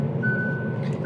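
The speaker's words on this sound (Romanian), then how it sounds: "Am văzut mașina din față și a bipăie, bipăie în continuu." Inside a 2023 Kia ProCeed facelift, the proximity warning sounds a single sustained electronic beep lasting most of a second over a constant low rumble of road and cabin noise.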